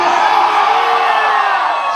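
A large concert crowd at a cumbia sound-system show roars and shouts on cue, a loud, dense, sustained wall of whoops and cheers.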